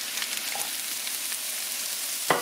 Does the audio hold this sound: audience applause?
no